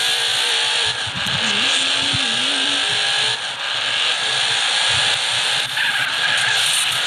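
Car driving in GTA San Andreas, a constant loud engine drone with a shifting whine, steady throughout with no talk.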